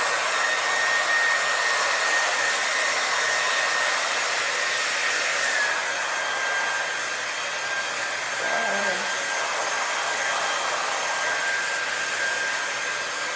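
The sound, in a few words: hair dryer on low setting blowing short hair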